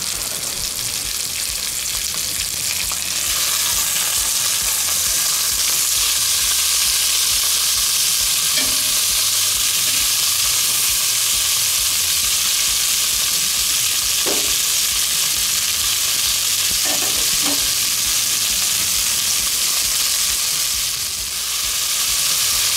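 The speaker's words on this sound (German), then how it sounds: "Und die Tomaten schwitze ich jetzt auch noch etwas an." Onions and tomatoes sweat in a hot cast-iron Dutch oven, a loud unbroken hiss of sizzling that runs throughout, with occasional stirring clunks and scrapes near the middle, close up and free of speech.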